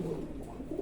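An A-grade female Lahore pigeon gives a low, soft, throaty coo, murmuring continuously at close range over a short moment without any talk.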